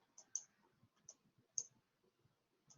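Faint scattered clicks, roughly six sharp ticks at irregular intervals, sounding like a mouse or pen being clicked during a math lecture, with soft background rustle and no speech.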